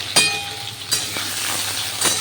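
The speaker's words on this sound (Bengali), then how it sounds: "আলুটা যেমন তেলে ভেজে নিচ্ছি সয়াবিনটাকেও আলুর সঙ্গে আমি সুন্দর করে ভেজে নিই" Soybean chunks and potato pieces fry in hot oil with a steady sizzle. Now and then a sharp clink of a utensil stirring against the pan cuts through.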